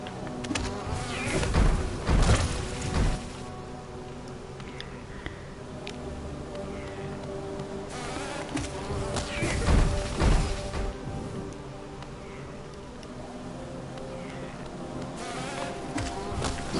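Bees buzzing in Hollow Knight, a steady insect drone with two louder bursts of striking and crashing action over a continuous hum.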